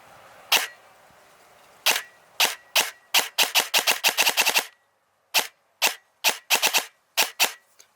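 An airsoft SIG MCX rifle with upgraded internals fires sharp, loud clicking shots: a single shot, then rapid full-auto bursts and several short strings with brief pauses, close and alone with no talking.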